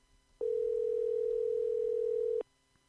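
A steady telephone dial tone sounds alone for about two seconds, clean and unbroken, as a call is placed during a radio show.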